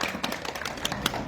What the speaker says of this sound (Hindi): जोरदार तालियों के साथ दलबीर सिंह को विदा मिला